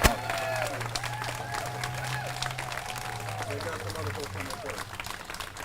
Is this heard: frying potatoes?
no